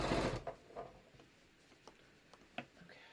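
A sewing machine stitches a quilted batik floppy hat, starting with a short loud burst of running needle, then quiet, scattered clicks and taps from the machine.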